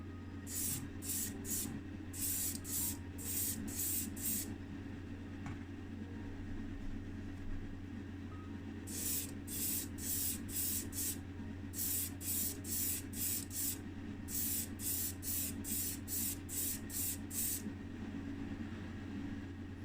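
Spray paint hisses out in short bursts, several quick sprays in a row, then a pause, then two more rapid series over a low steady hum.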